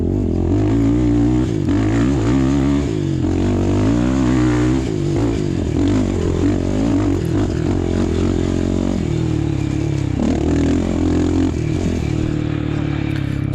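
Quad ATV engine revving hard during a mountain race at Buckhannon, West Virginia, loud and close with continuous rising and falling throttle and a rough droning exhaust the whole time.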